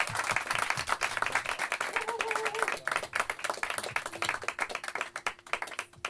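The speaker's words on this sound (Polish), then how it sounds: "Brawa dla niej." Audience applauding for a singer about to perform, dense clapping throughout, with a few voices talking faintly underneath.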